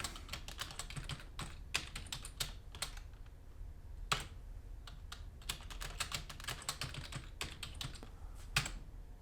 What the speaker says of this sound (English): And type password for user.